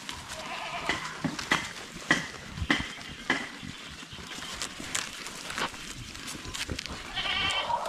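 Goats munching and tearing at leafy branches nearby, with rustling, crunching chews and scattered snaps, steady and fairly quiet throughout.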